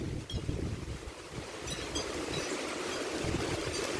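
Strong typhoon wind from Typhoon Kristine roars steadily outdoors, a broad rushing gust buffeting the microphone throughout with no voices.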